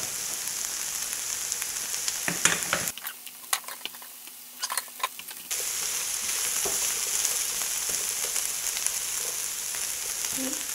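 Shrimp sizzling in a pan with a seafood mix and vegetables for black bean noodles, a loud steady fry that drops away briefly in the middle amid a few clicks, then returns just as strong.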